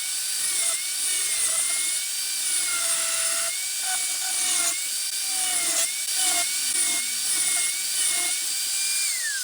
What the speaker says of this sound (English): So again, with the angle grinder, carefully cut that away.